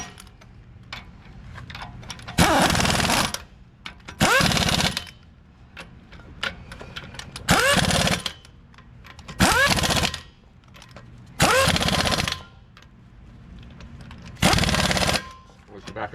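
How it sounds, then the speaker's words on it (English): A pneumatic impact gun works the lug nuts on a 2015–2020 Ford F-150 during a rear brake job. It fires in six sharp, loud rattling bursts, each lasting about a second, with quieter shop noise between them. "you can go ham with your air gun"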